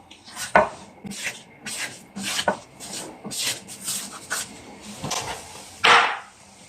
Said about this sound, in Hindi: तो इसको हम भून लेंगे अच्छी तरह से, खुशबू आने तक